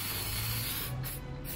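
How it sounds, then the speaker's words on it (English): Aerosol spray hissing steadily onto a fishing rod and reel during cleaning after use, a continuous close, even spray with slight pulses and no talk. "I spray the whole thing"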